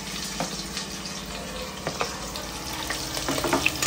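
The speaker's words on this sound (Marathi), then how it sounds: "सगळ्यात पहिले टाकते मी बटाटे कारण की बटाट्याला चांगलं फ्राय करून घ्यायचं" Potatoes fry in hot oil for a biryani, a close, steady sizzle and crackle with occasional stirring scrapes, heard without any talking.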